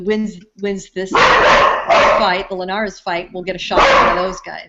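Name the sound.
dogs barking in background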